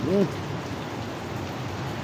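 Steady heavy rain with strong wind pours with a dense, constant hiss, a short voiced sound briefly rising at the start.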